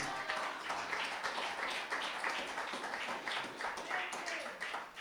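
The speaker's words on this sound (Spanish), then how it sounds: "Denle un aplauso al Señor esta preciosa mañana." A church congregation claps in praise, a continuous, moderately quiet rhythmic patter of many hands that holds steady throughout.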